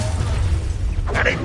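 A Bombarda spell goes off in Hogwarts Legacy, a short, sharp magical burst after a moment of rumbling combat noise, fairly loud and brief.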